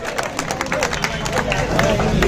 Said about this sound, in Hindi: हमारे बेहतरीन बेस्ट दोस्तों जोरदार तालियां बजा के